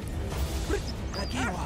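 A dog barking and yipping in the World War I game Valiant Hearts: The Great War on PS5, a few short, sharp yelps over a rumbling background, fairly close, with no talking.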